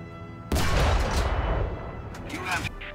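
A tank cannon fires in the War Thunder video game, a single loud booming blast that rolls on into a long rumbling decay, with faint sounds of game activity near the end.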